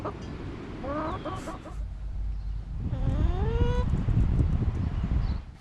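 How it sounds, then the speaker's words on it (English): Backyard chickens cluck and call in two clear bursts over a steady outdoor rumble, close and moderately loud with no talk. "I've never been more grateful for our chickens,"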